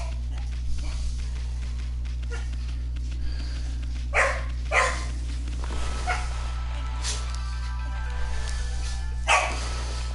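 Two house dogs bark at each other indoors: a few sharp, separate barks and yips spaced several seconds apart, moderately close, over a steady low electrical hum.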